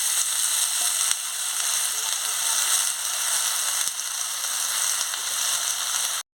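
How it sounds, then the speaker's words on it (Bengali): Potatoes and snake gourd fry in oil in a pan with a loud, constant sizzle. A few sharp clicks of stirring break in before the sound stops abruptly. "আলুটা দিয়ে ভালো করে ভেজে নিচ্ছি এবার আমি চিচিঙ্গাটাও দিয়ে দিচ্ছি"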